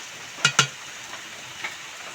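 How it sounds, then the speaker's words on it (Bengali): A spatula scraping and stirring potato curry (aloor dum) in a pan, with two sharp close clinks in quick succession followed by a fainter tap amid a soft sizzle. "সব কিছু দিয়েছি, এখন নেড়ে নেব।"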